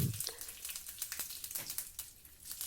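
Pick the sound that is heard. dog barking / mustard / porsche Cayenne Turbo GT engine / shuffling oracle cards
mustard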